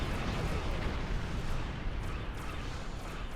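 Artillery cannon fire in the Star Trek Online game, a dense, continuous barrage of booming blasts and rumbling bursts that stays loud and steady throughout, with no pauses between shots.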